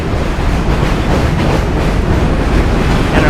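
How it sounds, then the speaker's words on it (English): A New York City J subway train passing close by, a loud, continuous roar with rhythmic clickety-clack rolling on through the whole stretch, with no talk over it. "Another train coming. This time it's a J train."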